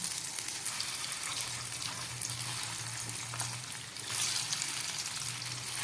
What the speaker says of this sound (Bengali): তেলটা গরম হয়ে গেছে আমি এই মাছের মুচ্ছাগুলো এর মধ্যে ভেজে নিচ্ছি